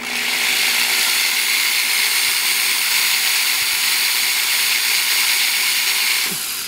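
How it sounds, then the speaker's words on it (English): A power drill runs steadily with a dull bit, giving a continuous high-pitched whine that holds at a constant level throughout, with a brief knock near the end and no talking. "if I take this drill here and we'll try to run it"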